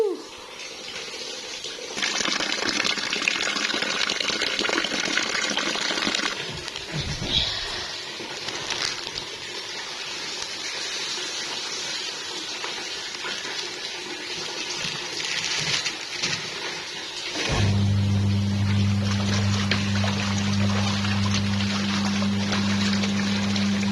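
A washing machine fills with water in a steady rushing gush, then its drum starts running with a low continuous hum and rhythmic churning.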